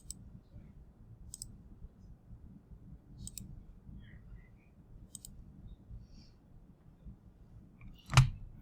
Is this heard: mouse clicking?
yes